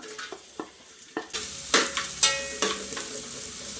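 Onion, green chilli and curry leaves hit hot coconut oil for a beef biryani. A few soft clinks come first, then a bright crackling sizzle jumps up with repeated spatters and stirring scrapes close by.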